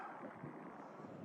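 Steady, low wind rumble buffets the microphone throughout, faint and continuous with no voices, at an old mining camp.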